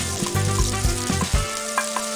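Cumin seeds and chopped garlic fry in hot oil with a loud, continuous close-up sizzle. Several quick stirring scrapes cut through the steady crackle.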